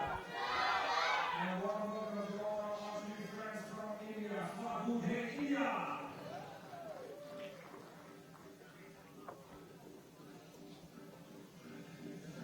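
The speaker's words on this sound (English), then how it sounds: "got a lot of cheering there for the for the Chinese team" Crowd at a para archery team bronze match between China and India in Den Bosch cheering for the Chinese team, loud shouts and voices that swell then gradually fade into a quieter murmur.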